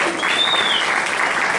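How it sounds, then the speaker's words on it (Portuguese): Concert audience at Sesc Pinheiros applauds steadily in a dense, continuous wash of clapping, close and fairly loud, with a faint whistle cutting through near the start. "Palmas para o nosso mestre."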